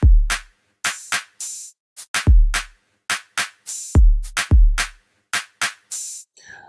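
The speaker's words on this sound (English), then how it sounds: "We've got the clap, giving you that Afrobeat rhythm, and we've got the kick, so it's really simple." An Afrobeat drum pattern programmed in Logic Pro X hits with punchy kicks and sharp claps in a sparse, syncopated rhythm, each stroke clean and isolated with silence between.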